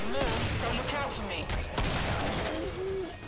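Rapid gunfire from a co-op shooter match in Killing Floor, dense overlapping shots filling the whole stretch with players talking over it.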